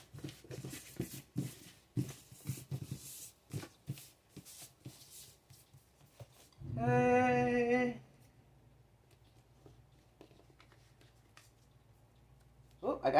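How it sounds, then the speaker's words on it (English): A deck of cards is shuffled quickly during a card reading: one dense, crisp riffling burst lasting just over a second, coming after a stretch of talking and followed by quiet room tone. "Shuffle right quick."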